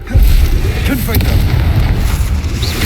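A Confringo blasting spell explodes in the Hogwarts Legacy video game, a loud booming blast that rolls into a sustained rumbling, crackling aftermath.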